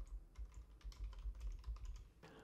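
Rapid typing on a computer keyboard, a quick irregular patter of key clicks heard close and clear with no voices, ending in a firmer keystroke.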